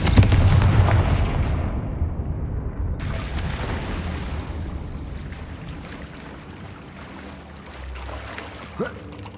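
Confringo blasting spell explosions in Hogwarts Legacy: a loud booming blast at the start that rolls off into a long decaying rumble, with a smaller crack near the end.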